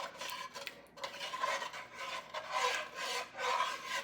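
A utensil scrapes the bottom of a Le Creuset Dutch oven while deglazing, giving quiet, close, rasping strokes that repeat in an uneven rhythm.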